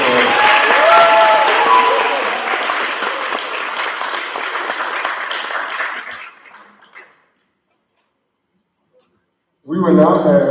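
Loud, dense applause from a coronation crowd honoring their queen, with a few whoops mixed in, fading over several seconds into silence before a voice speaks at the end.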